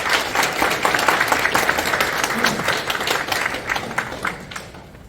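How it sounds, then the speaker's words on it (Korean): Applause from an audience at a Christian prayer breakfast held in a National Assembly meeting room, a dense, steady clapping that fills the whole stretch and tapers slightly at the end, with no talk over it. "감사의 박수 부탁드립니다"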